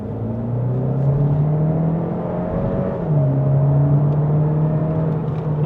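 A GAC Empow car drives in Sport mode, its engine giving a steady droning hum that dips briefly and then rises again as the car accelerates, heard close up with no talk.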